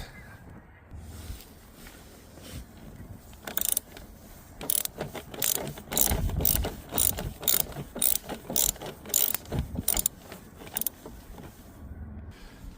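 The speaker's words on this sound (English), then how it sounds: "To remove that bolt, I'm gonna be using a Torx bit number 50 with the ratchet." A ratchet with a number 50 Torx bit loosens a bolt on a Dodge Grand Caravan driver seat track, giving a run of sharp, close clicking bursts in an uneven rhythm, with quieter metallic handling before and after.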